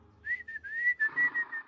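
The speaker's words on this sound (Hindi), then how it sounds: "ये सीटी कौन मार रहा है?" A cartoon character whistles a bright, wavering tune in several short phrases. The whistling is close and clear, with no speech over it.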